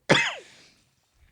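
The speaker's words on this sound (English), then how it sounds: "Oh, you got me coughing." A single sharp, throaty cough from one person up close, ending in a brief rasping tail, followed by near silence.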